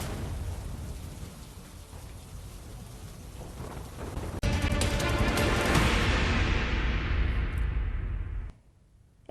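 Steady rain falls in Veraval, heard as a dense, even hiss, with a heavier rumbling surge of downpour or thunder partway through that fades out abruptly near the end, with no voices.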